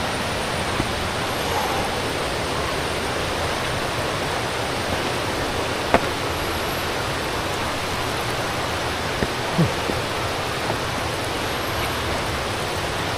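Continuous hiss of mountain stream water running down near one of Malaysia's tallest waterfalls, even and steady throughout with a few faint ticks and no voices.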